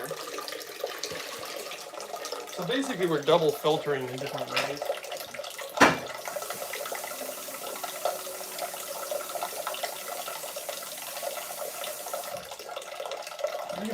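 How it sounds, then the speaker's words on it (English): Carbon-filtered water poured into a container for a Japanese smoothie, a steady running splash lasting several seconds while someone talks over it. "This is actually more carbon filtered water. We'll pour that in there."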